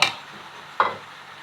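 Crisp Thai eggplants drop into a pot of boiling pork red curry: two quick splashing plops about a second apart, close and clear, over a low simmering bubble.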